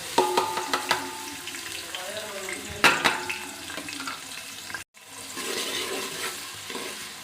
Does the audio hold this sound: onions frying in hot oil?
yes